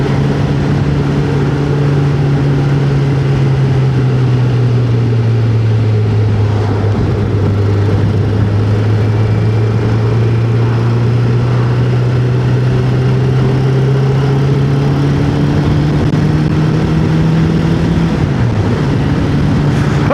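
A motorcycle engine runs loud and close in a continuous steady drone, its pitch sagging slightly and then rising again, with no talking.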